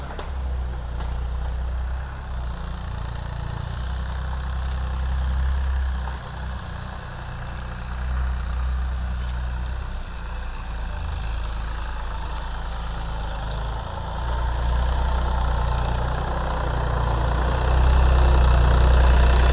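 A Massey Ferguson 240S tractor engine runs steadily close by with a deep low rumble and a rhythmic knock, growing slightly louder toward the end.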